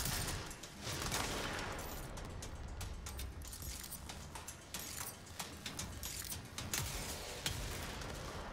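Rapid bursts of video game gunfire from Control crackle and pop, some shots in quick clusters, over a constant background hiss with no voices.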